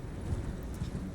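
Horse hooves clip-clop in a video game, a muffled, rapid patter of footfalls under a dense, steady wash of game ambience.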